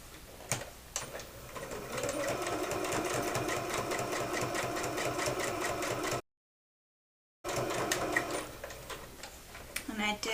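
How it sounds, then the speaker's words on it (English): A sewing machine top stitches along the edge of a large project tote bag, running in steady rapid ticking stitches for several seconds, pausing briefly, then starting again, close and clear. "And then I want to top stitch down either edge"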